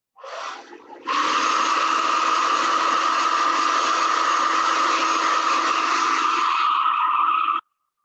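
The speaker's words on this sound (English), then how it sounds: "So I am going to hit this with the hair dryer." A hair dryer whirs briefly, then roars steadily at full power for about six seconds before cutting off abruptly.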